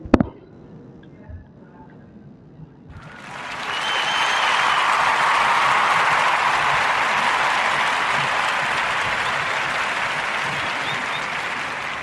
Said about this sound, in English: I'll give a warm narrative podcast round of applause for Mr. Hill Harper.